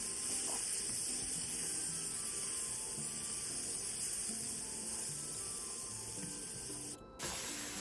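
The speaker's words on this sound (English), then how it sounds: "You can take 1 large onion and fry in the same pan." One large onion frying in a pan for beef stew, a steady loud sizzle that runs throughout with a brief dip near the end, with no voices.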